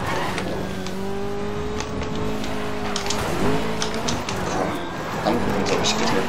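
A car engine revs and accelerates in the racing game Need for Speed Most Wanted, its rising, shifting drone running steadily through the stretch while someone talks over it.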